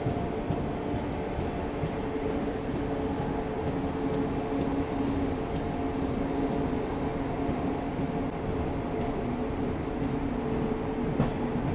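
A passenger train runs along the rails past Chittapur, a steady near rumble that swells around the second second and then settles into an even rolling drone, with no voices.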